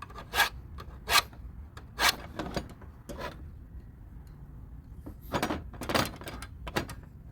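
Metal parts from a Whirlpool Kenmore washing machine being filed by hand during a repair, several separate rasping strokes with short pauses between them, close and fairly quiet.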